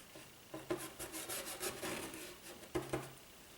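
A worn scrubber paint brush rubs paint onto a canvas for a landscape of a creek, giving a soft, dry, rasping scrub in quick repeated strokes, faint and close.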